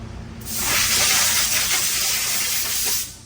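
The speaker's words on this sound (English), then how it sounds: "let me go spray this off" Cleaner sprayed on a burnt 8-speed Camaro transmission part hisses continuously for nearly three seconds after a brief quiet start, close and loud, then cuts off.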